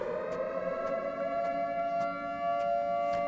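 A Siren Head monster in a video game gives off a sustained, wavering siren wail with layered tones, steady and fairly loud over faint clicks, no talking.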